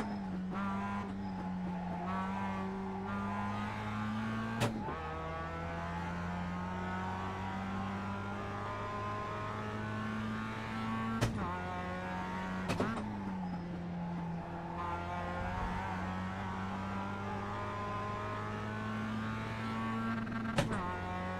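A GT3 race car engine in the iRacing sim at Watkins Glen, a steady droning rev that climbs and holds near the limiter, broken by sharp clicks at gear changes.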